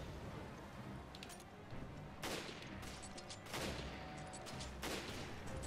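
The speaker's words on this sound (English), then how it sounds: "So now what you gotta do is shoot off the parasites" Bursts of gunfire from the Resident Evil Revelations video game as parasites are shot off an enemy, several rapid volleys separated by short pauses, fairly quiet overall.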